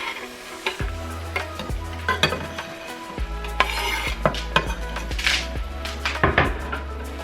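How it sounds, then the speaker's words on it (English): Garlic sizzles in a teaspoon of oil at the bottom of a rice pot while a utensil stirs it, giving a steady hiss with repeated scraping and clinking knocks against the pot. "stir that around and just let the garlic start infusing into that little pot there"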